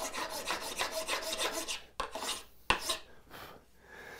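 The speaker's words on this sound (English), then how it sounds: "I can use the file on the side of the tenon here" A curved-tooth file rasps along the side of a wooden tenon in a steady series of close scraping strokes, then two sharp knocks and a few slower, quieter rubs, with no talking.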